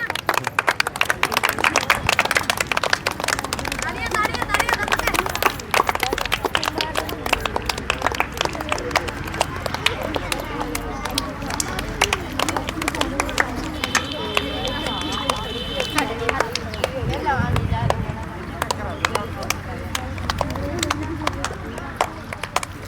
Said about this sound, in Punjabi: ਤਾੜੀਆਂ ਤਾੜੀਆਂ ਤਾੜੀਆਂ